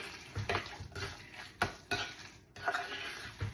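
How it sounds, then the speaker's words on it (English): Spoon clinking and scraping in a bowl as a vegan tuna mixture with organic nori sheets is stirred, a few distinct sharp knocks against the sides over a steady low rustle, close and fairly quiet. "And then you just stir it up real good"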